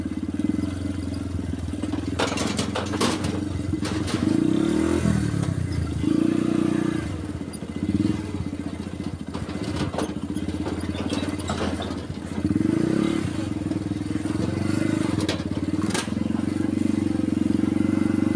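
A motorcycle riding across the Sungai Aur bridge, its engine droning steadily close by and swelling in revs several times, with rattles and clattering thumps from the crossing mixed in.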